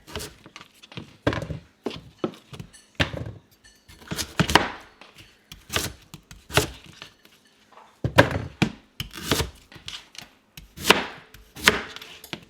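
Knife chopping vegetables on a cutting board, quartering them for a keto meal: a steady run of close, crisp thunks in short bursts with brief pauses, no talking.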